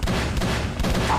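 A quick series of gunshots in Call of Cthulhu: Dark Corners of the Earth, several loud, close reports in rapid succession across about a second, heard alone.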